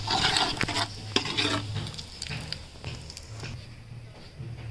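Curry leaves and red chilli powder are stirred in a hot pan over a wood-fired stove, a spoon scraping in repeated strokes over a steady close sizzle.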